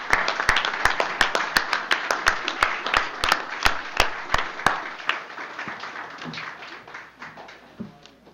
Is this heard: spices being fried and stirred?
no